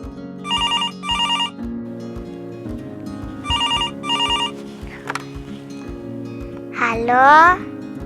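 A telephone rings back while a call is being placed, two bursts of electronic ringing spaced apart over a steady tone, followed by a brief rising melodic beep.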